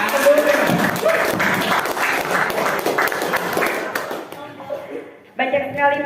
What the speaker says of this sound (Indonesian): Boleh berikan aplaus sekali lagi.